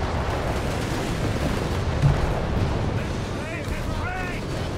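Battle noise from the Company of Heroes 3 video game, with continuous rumbling gunfire and artillery booms layered into a dense, loud wall of sound as a commentator talks over it.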